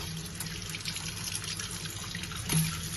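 Soaked rice being rinsed by hand in water, washed two or three times, for Marathi ghavane batter, a steady close wash of running and sloshing water with a brief louder splash near the end.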